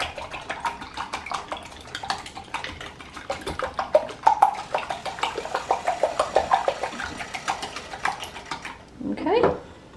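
A wire whisk beats eggs in a bowl for an omelet, a fast run of light tapping and scraping strokes close by, ending with a brief louder clatter.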